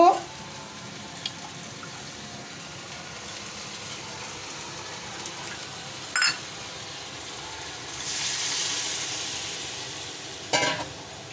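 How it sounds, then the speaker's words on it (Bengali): Hot water is poured into a cooking pot of simmering jackfruit curry, a short rushing splash rising over the low bubbling and sizzle of the pot, with a few clanks before and after. "যত যতটুক জল লাগে আমি এই গরম জলটা দেব"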